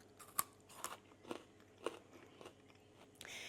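Freeze-dried, blanched sweet potato chips are bitten and chewed, giving about six sharp, dry crunches spaced roughly half a second apart, close and fairly quiet with no talking.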